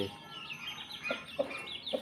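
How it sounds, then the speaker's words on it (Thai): A Burmese fighting chicken in a rural Thai village gives several short, soft clucks in close succession, fairly near and quiet, over light background noise. "ตัวนี้ก็เป็นไก่"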